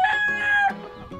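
A rooster crows loudly and close by, a single long harmonic call that rises, holds, then breaks off, followed by a short trailing cluck.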